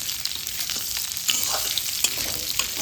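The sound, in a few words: stirring fried drumsticks and potatoes in a pan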